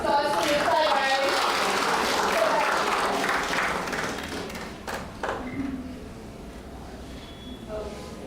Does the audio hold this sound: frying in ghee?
no